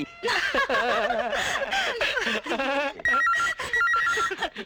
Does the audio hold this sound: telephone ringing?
yes